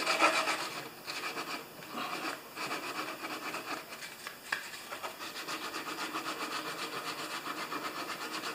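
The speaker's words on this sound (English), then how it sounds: "This is just a belt sander on a piece of wood." A belt sander grinds across a piece of wood, a continuous raspy abrasive whir at moderate loudness, steady for several seconds with slight pulsing as the sander moves.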